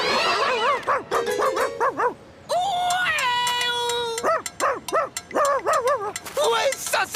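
A dog barking and yipping in quick, loud bursts, with one long drawn-out whine in the middle, close by.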